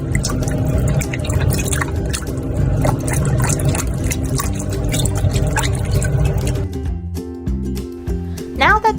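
Running water splashes through a bamboo strainer onto a cured salmon fillet, a steady close patter and drip that stops near the end, with a voice speaking over it.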